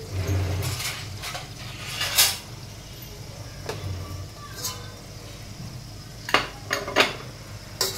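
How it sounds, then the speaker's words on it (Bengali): Fried paneer pieces lifted out of a pan, heard as a string of metal clinks and scrapes of a utensil against cookware over a faint background sizzle, close by. "আমার পনির ভাজা হয়ে গেছে, এবার আমি পনিরগুলোকে তুলে নেব"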